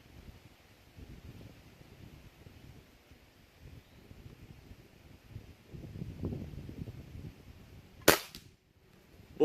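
A PCP air rifle fires once outdoors, a single sharp, loud crack standing out against soft wind and rustling background noise.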